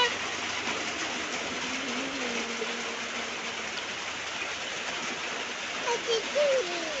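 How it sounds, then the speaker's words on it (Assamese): Steady morning rain falls continuously as a broad, even hiss throughout, with a few faint higher chirps near the end. "ৰাতিপুৱাই আকৌ আৰম্ভ হৈ গ'ল বৰষুণ"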